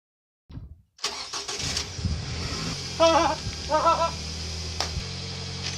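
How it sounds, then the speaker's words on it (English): Toyota Camry engine starting after fog light and alarm rewiring: a brief crank and click, then the motor catches and settles into a steady idle hum, with a couple of chirpy squeaks early on. "That is the happiest I've ever been for a car starting before in my life."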